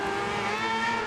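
Rallycross cars launch together off the grid at a race start in Kouvola, Finland, a dense, loud blend of revving engines holding steady across the short burst, with no talk over it.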